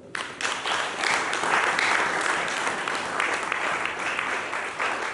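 A church congregation applauds during a sermon, with sustained clapping that swells quickly and holds steady for several seconds.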